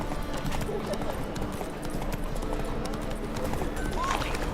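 Roach, the horse in The Witcher 3, gallops with steady clip-clop hoofbeats running throughout at close range, under a busy game ambience.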